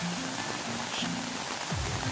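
Rain falls at a river in a steady, dense hiss of drops and flowing water with no pauses.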